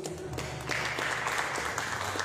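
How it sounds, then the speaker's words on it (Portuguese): A church congregation claps steadily with sustained applause during a prayer service, a dense wash of hand claps filling a large room, no voices standing out. "Aplauda o Senhor Jesus."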